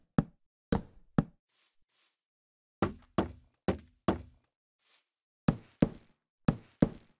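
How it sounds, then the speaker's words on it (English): Minecraft wooden blocks being placed and broken produce a series of short hollow wooden knocks in small clusters separated by pauses, crisp and close with a few faint soft thumps between. "Here are the sounds for placing or breaking blocks."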